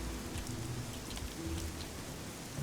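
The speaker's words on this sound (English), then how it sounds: "Because, you know, it's raining." Steady rain falls in the video game Submerged, a dense, even patter with no talking over it.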